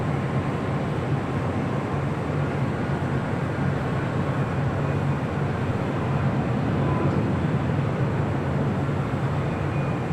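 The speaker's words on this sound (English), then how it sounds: "That is Delta Airlines flight 290 right there. This flight heading to Paris in this A330 Neo." A Delta Airlines Airbus A330neo airliner bound for Paris passes overhead near LAX with a steady, broad jet roar that holds fairly even throughout, moderately distant and with no talking.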